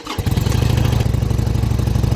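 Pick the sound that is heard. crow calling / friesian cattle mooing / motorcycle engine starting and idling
motorcycle engine starting and idling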